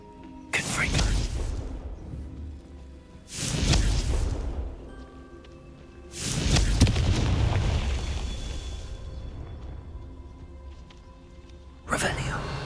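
A blasting spell explodes repeatedly in a fantasy action game set at Hogwarts: four heavy booming bursts spaced a few seconds apart, each with a loud low thud and a decaying rumble, over a steady background.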